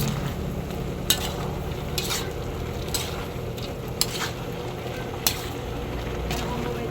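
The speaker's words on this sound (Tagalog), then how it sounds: "Hinahalo-halo ko po at baka po matuok po yung ilalim." Ginataang langka with shrimp is stirred in boiling coconut milk in a pot, with a spoon scraping the bottom in regular strokes roughly once a second over a constant bubbling simmer.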